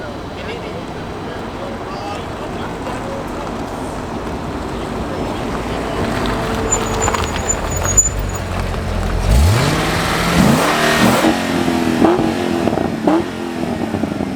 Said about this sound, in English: We got another car pulling in.